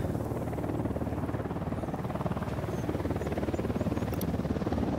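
Military helicopter in the Ghost Recon Wildlands video game drawing near, a steady loud rotor drone with rapid throbbing beats holding throughout, no speech.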